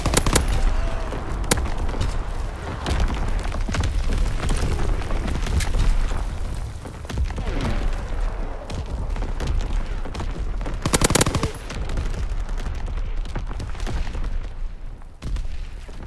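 Artillery and gunfire in a World War-era shooter set in the Ardennes Forest, a dense continuous barrage of booms and rattling shots with a heavy blast near the end.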